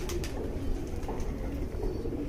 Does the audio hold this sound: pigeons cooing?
yes